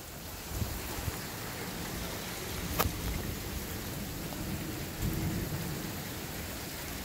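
Heavy rain pouring steadily during a thunderstorm, a dense constant wash of drops with a couple of faint, distant thunder rumbles and a brief crackle, no voices.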